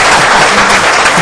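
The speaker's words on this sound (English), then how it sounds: "Y'all just want to start applauding for Christine right now?" Audience at a county board of supervisors meeting applauding, a dense, loud burst of clapping that stays steady for a second or so without talk.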